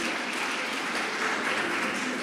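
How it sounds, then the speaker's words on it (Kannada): Applause at a Women's Day event held by the Mangalore Bar Association: a room full of people clapping steadily at moderate loudness, a dense even patter sustained throughout with no break. "ಮಂಜುಳಾ ಇಟ್ಟಿ ಮೇಡಮ್ ರವರಿಗೆ ಕಾರ್ಯಕ್ರಮದ ಮುಖೇನ ಜೋರಾದ ಚಪ್ಪಾಳೆಯೊಂದಿಗೆ ಅಭಿನಂದನೆಗಳನ್ನು ತಿಳಿಸುತ್ತಿದ್ದೇನೆ."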